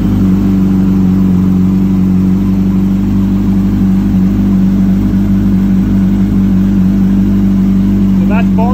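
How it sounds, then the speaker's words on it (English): A cold motorcycle engine that has sat overnight runs with a loud, steady, close idle hum and strong low drone, with a brief rise near the end; a voice speaks over it. "And let's fire it up."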